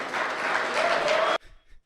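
An audience bursts into loud, sustained applause as Kemi is welcomed onto a stage, the clapping cutting off abruptly after just over a second.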